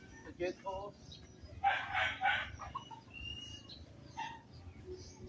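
Pet chickens cluck and call in short, scattered bursts at feeding time in a small backyard coop, fairly quiet with brief pauses between calls.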